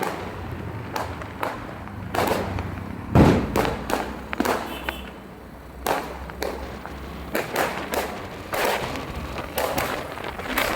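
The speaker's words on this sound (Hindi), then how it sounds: "रास्ते में चल रहे थे बहुत सारे पटाखे, प्यारे प्यारे स्काई शॉट्स" Diwali firecrackers and sky shot fireworks go off along a street, a string of sharp bangs and thumps at irregular intervals, some near and loud, others more distant, over a steady background rumble.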